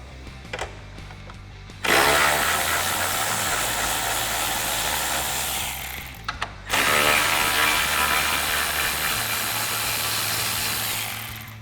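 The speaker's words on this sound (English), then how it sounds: "Now we can remove the two top bolts for our headlight using our 10mm socket." Power tool with a 10mm socket removing the top headlight bolts on a 2018-2020 Ford F-150, two loud sustained whirring bursts of a few seconds each with a short pause between.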